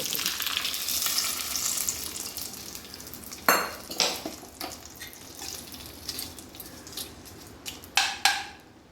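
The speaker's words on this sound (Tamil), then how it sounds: "வரமிளகா போட்டுக்கோங்க கொஞ்சம் கருவேப்பிலை போட்டுக்கோங்க" Dried red chillies and curry leaves fry in hot oil as a tempering for ash gourd curd pachadi: a close, continuous sizzle with sharp clinks and scrapes of a metal utensil in the pan.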